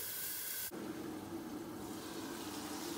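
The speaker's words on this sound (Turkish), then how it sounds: "Tavuğumuzu kısık ateşte buharıyla çevire çevire pişireceğiz." Chicken cooking in a covered pot over low heat, giving a steady hiss of steam and sizzle that carries on evenly after a sharp change near the start, with no talk.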